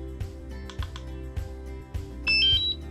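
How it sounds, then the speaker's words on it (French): A short run of power-on beeps from a DJI Mavic Mini drone remote controller, a few high tones stepping in pitch, heard over a steady background of rhythmic music, fairly faint and close. "Les bips nous confirment donc la mise sous tension de la radiocommande."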